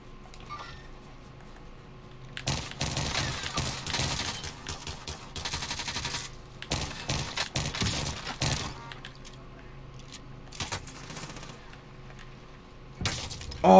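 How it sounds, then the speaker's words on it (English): Gunfire in Call of Duty Warzone on Rebirth Island, a sniper shot among bursts of loud, dense shooting that comes in several clusters, near and sharp, with game ambience between them. "Oh, I got sniped from the other roof."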